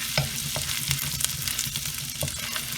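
Ginger and shahi jeera fry in hot oil for a Malabar fish biryani, a close, steady sizzle punctuated by quick rhythmic scrapes of a spoon mixing them; no one talks.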